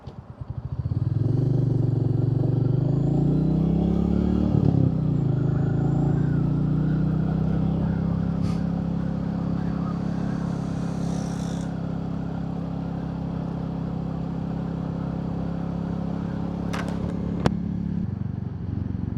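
Royal Enfield Meteor 350 motorcycle ridden at low speed, its single-cylinder engine thrumming steadily with a short rev change early on and light clatter, a continuous moderate drone heard from the rider's position.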